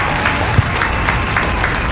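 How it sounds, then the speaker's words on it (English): A small group claps together for someone's birthday during a comedy podcast taping, a steady dense patter of hands under background chatter and voices, continuous across the moment. "We gotta clap it Happy up one time."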